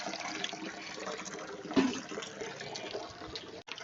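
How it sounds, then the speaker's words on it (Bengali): Water runs steadily from a household tap, a continuous close splashing stream whose flow surges slightly partway through before cutting off briefly near the end. "এবার জল রেসটা দেখো একটু বেড়েছে"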